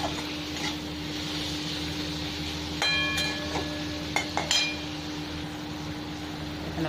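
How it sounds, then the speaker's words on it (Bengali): Spices with turmeric fry alongside tomato and onion in a pan, a soft steady sizzle under a constant hum, with a few metal clinks of a spatula against the pan. "এই 1-2 মিনিট মশলাটাকে ভেজে নেবো টমেটোর সাথে পেঁয়াজের।"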